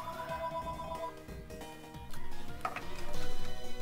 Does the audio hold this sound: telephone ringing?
yes